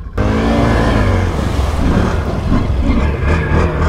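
A 2023 Can-Am Renegade 110 ATV engine runs loud and steady close by, a continuous droning rumble with slight surges throughout and no pauses.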